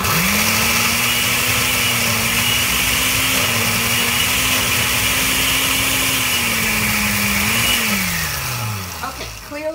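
A kitchen blender churns chickpeas for hummus, a loud continuous motor drone that holds a steady pitch for about eight seconds, then slows and winds down near the end.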